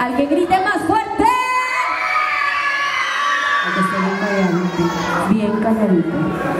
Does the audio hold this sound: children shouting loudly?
yes